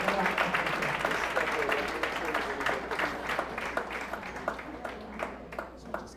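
Audience applause at a women's excellence awards ceremony, a steady wash of clapping from a crowd that thins out toward the end with individual claps standing out, with some voices mixed in.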